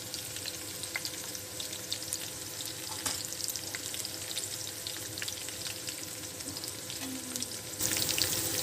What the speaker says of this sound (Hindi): और ये इधर हमारा बघार तैयार हो रहा है। ये हमारा बघार बन रहा है।